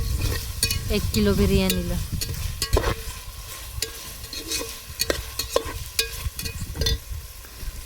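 Thin-sliced tomatoes cooking in oil for a one-kilo biryani in a village kitchen, a steady sizzle with occasional stirring clicks under a brief voice.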